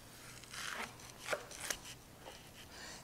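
A sharp knife slicing through a watermelon, giving a few faint, crisp crunching cuts close by, each a short burst of slicing followed by quiet.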